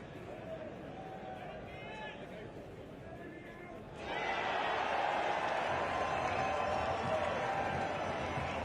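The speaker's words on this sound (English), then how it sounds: "Big cheers from the Pakistan contingent in the crowd here at Trent Bridge" A crowd at a Trent Bridge cricket match between England and Pakistan erupts halfway through, with a broad wash of cheering and applause swelling up from quieter murmuring and a voice speaking earlier.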